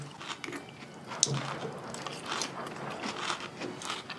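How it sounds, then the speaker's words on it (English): Close, moist chewing of a chewy food, a soft steady run of squishy bites and mouth sounds over about four seconds, with one sharper click near the start and no talking. "I feel like I'm burning energy just chewing it."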